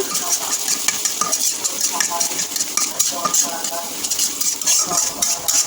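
Onions sizzle in a pan as a utensil scrapes and clinks against the metal in quick, irregular strokes, close and continuous.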